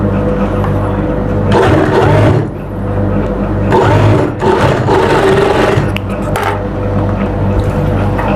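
Sewing machine running in loud bursts while joining the front and back panels of an Afghani-style kurta, steady mechanical whirring with short pauses between runs, close and dominant.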